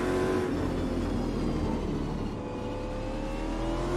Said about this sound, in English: V8 sounds fantastic in this car